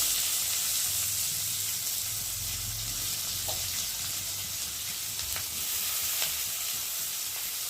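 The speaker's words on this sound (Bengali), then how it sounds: "আর এখন আমি এই যে কেটে রাখা পেঁয়াজগুলোকে দিয়ে ভালো করে একটু লাল লাল করে ভেজে নেব" Chopped onions frying in a pan for an egg curry, with a steady close sizzle and occasional scrape of stirring throughout, no talking.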